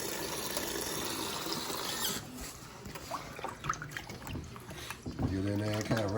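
Bluegill fish are rinsed with water and salt, giving a rushing splash that gives way to wet rubbing, trickling and small drips, with a person talking near the end.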